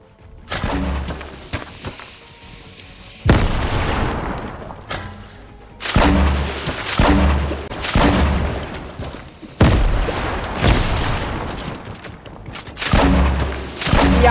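Giant bomb blasts in Fortnite, heard as a series of four heavy, booming explosions spaced a few seconds apart, each loud and sharp with a rumbling tail and no talking.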